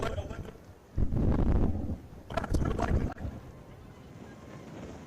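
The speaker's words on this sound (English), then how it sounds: "In fact, the wind blowing so much we can't hear the referee" Strong wind gusts buffet the microphone at an outdoor high school all-star football game, with loud low rumbling bursts rising and falling over about five seconds and faint voices underneath.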